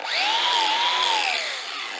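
A flap wheel sander grinds on a mower blade in one short, close, high whirring burst that rises, holds, then drops away.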